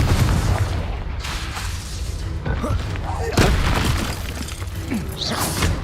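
Confringo explosion spells in the Hogwarts Legacy video game burst with loud booms and shattering cracks amid ongoing combat noise, with voices heard alongside the blasts.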